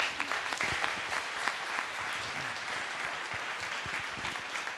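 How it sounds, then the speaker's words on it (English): Conference audience applause fills the room in a dense, steady clatter of many hands clapping at close range, sustained for the full stretch without a break. "Big round of applause to Agne."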